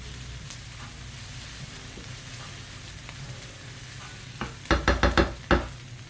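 Onions and minced jalapeno fry in a skillet with a steady soft sizzle, then a spatula stirs them in a quick run of close, sharp scraping strokes near the end.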